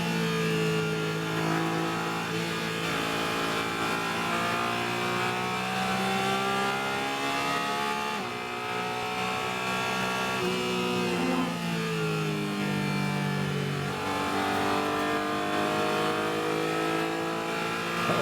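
Porsche race car engine heard onboard during a Trans Am Series race at Sonoma, revving loud and continuous with rising and falling pitch through gear changes, no talk over it.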